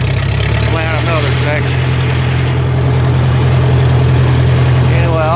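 A Massey Ferguson 150 tractor engine idles close by on a farm field, a loud steady low rumble throughout, with someone talking over it.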